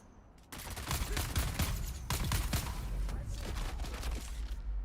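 Rapid volleys from missile wands fired by elite guards in Dune: Awakening, a loud, sustained crackling barrage of many quick shots that starts abruptly and keeps going with no talking.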